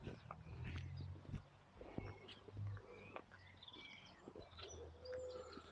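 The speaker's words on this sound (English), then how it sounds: "And the birds are singing and flying around." Birds chirp and call in a Kilbride cemetery in County Kilkenny, Ireland, with scattered tweets, short trills and a low dove-like coo, soft and somewhat distant amid outdoor ambience.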